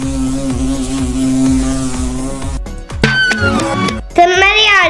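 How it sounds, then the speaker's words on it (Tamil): A bee's buzzing drones steadily for a couple of seconds over a rhythmic music beat, then gives way to a voice and other busy sounds. "தேனி ரீங்காரமிடும்."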